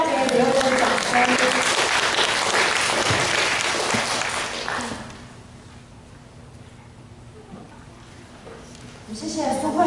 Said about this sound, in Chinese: 请大家给刘伟伦掌声。